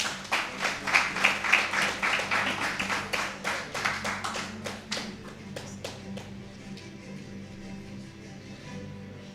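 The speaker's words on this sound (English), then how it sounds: "Please give a round of applause to Sean Cunningham" An audience at a track and field coaches' awards ceremony in Jamaica claps for an award recipient, distinct individual claps standing out at first, then thinning to scattered, sparser claps before fading out.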